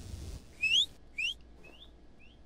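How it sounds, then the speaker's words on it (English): Two bright rising whistled notes followed by two fainter, shorter chirps, a person whistling in a horror game, fairly close and alone with no speech over it, ending in a sudden sharp click. "Stop whistling!"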